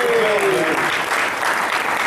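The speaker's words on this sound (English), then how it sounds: "can everyone give Nick a round of applause?" A room full of people gives Nick a round of applause during a presentation, loud dense clapping that fills the whole stretch evenly, with a brief voice at the start.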